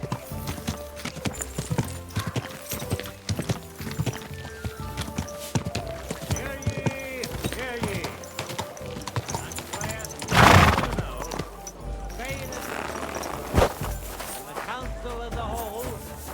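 Horse hooves clip-clopping at a steady walking rhythm in the video game Kingdom Come: Deliverance 2, with a loud, sudden neigh near the middle, then the hoofbeats continue under occasional voices.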